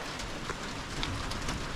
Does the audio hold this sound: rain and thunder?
yes